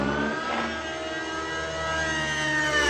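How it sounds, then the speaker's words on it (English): Nitro RC helicopter engine at full throttle, a loud, high-pitched continuous whine with strong harmonic buzz that swells slightly toward the end, with no talk over it. "So I'm gonna do some full throttle loops."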